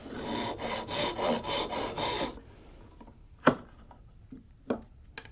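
A hand saw cuts the shoulder of a hand-cut dovetail in wood, giving a steady run of rhythmic rasping strokes for about two seconds. After that come quieter scrapes and a couple of sharp knocks near the bench.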